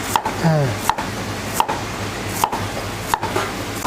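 A knife dices shallots on a cutting board, five crisp evenly spaced strikes with a short pause between each, close up and with no talking.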